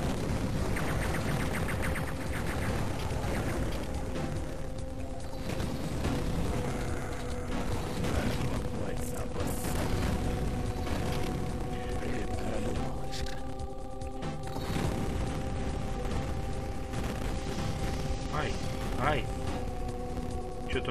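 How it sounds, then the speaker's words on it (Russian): Explosions and crashing blasts in Duke Nukem 3D: Megaton Edition, repeated booms and debris noise over droning game tones, with a player talking over them. "Долго взрывается все."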